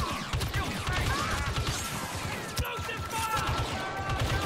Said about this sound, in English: Oh, this is a burst rifle.